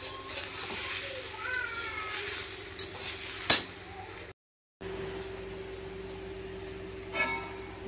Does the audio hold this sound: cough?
no